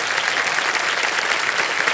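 Steady, dense applause from a studio audience on a Hindi TV quiz show, loud and continuous throughout with no voices over it.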